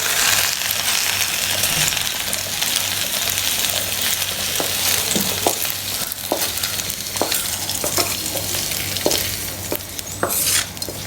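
Okra pieces sizzle steadily in a pan for a tamarind gravy, a continuous frying hiss with intermittent spatula scrapes and taps, close up.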